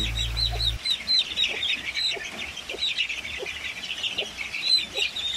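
Pure Basilan and Zampen breed chicks being readied for a box, giving a steady stream of high peeping chirps close by, with soft rustling and handling noises underneath.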